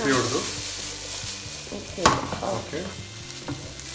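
Vegetable fried rice being stirred and tossed in a pan, with a moderately loud, irregular scraping and sizzling and a sharper clatter near the middle, no talking.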